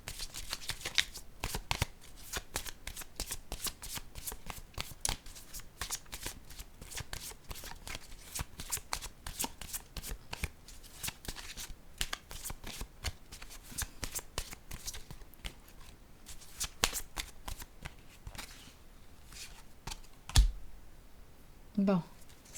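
Cards are shuffled, riffled and laid down during a card reading, giving a long run of dense, close snapping flutters and soft slaps. A couple of muffled knocks come near the end.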